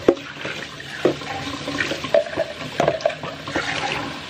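Water runs from a kitchen tap into a sink while dishes are washed and rinsed, a steady close splashing stream with brief clinks and surges, no talk over it.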